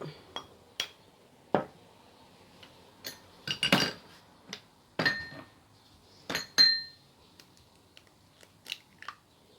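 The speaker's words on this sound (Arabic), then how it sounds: "نخلطوا المكونات مزيان." A spoon stirs Nescafe and egg together in a bowl for a homemade hair dye, making scattered clinks and scraping taps against the dish at irregular intervals, fairly close and quiet.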